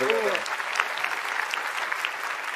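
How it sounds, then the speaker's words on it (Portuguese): A studio audience applauds steadily for the whole stretch, a dense, even wash of clapping with a brief voice near the start. "Obrigado, aplausos aqui."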